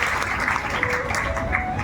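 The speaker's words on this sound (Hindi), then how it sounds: "ताली बजाओ भाई सबके लिए" Audience applause fills a gathering during a storytelling session about Parvati's marriage, a steady dense patter of clapping with faint voices mixed in.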